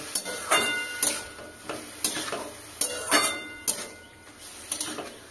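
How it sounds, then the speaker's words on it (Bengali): Ash gourd sweet being stirred in a pan, with a spoon scraping the pan in steady, repeated strokes over a soft background sizzle, close and moderately loud, with no talking. "ভালো করে নাড়াচাড়া করে নেব।"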